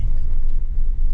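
A Jeep rattles and rumbles along a rough, holey washboard dirt road, a loud, continuous low-pitched drone of engine and jolting suspension heard from inside the vehicle.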